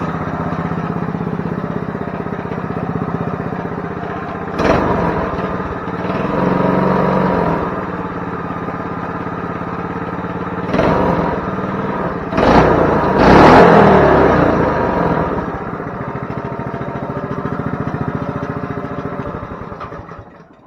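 A Coleman CT200U-EX minibike engine runs steadily near by, with a noisy clutch engaging and bursts of louder revving and rattling at intervals.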